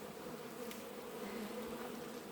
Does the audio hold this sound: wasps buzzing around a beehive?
yes